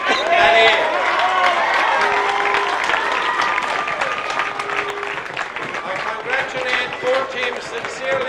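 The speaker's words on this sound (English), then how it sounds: "put your hands together and give a good round of applause to the 2 senior teams from the great parish of Clarecastle" Crowd at the 2003 Clare county senior hurling final between Clarecastle and Ballyea applauds steadily throughout, dense clapping with cheering voices and talk mixed in.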